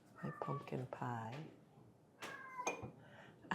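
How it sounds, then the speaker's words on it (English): A cat meows several times at close range, first in a quick run of calls, then after a pause two more drawn-out cries, with no talking. "I have a noisy kitty."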